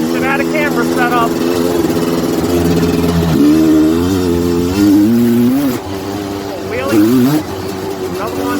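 Suzuki LT250R ATV engine running steadily in second gear on a trail ride, a loud close drone with shifting pitch as it pulls and eases, with a voice talking over it.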